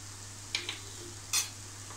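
Black-eyed peas masala with Kashmiri red chilli powder, coarse coriander powder, turmeric and salt being stirred in a pan, with a low steady sizzle broken by two quick scraping strokes of the spoon.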